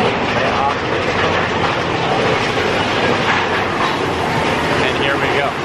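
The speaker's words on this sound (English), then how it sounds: "Taking the railroad at night." The Big Thunder Mountain Railroad ride train at Disneyland rumbles and clatters loudly at night, a steady dense roar of wheels and track noise with no pause.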